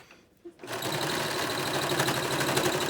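A sewing machine stitches fabric for an adjustable face mask, starting after a brief pause and then running as a steady, close, fast mechanical whir and rattle until the end.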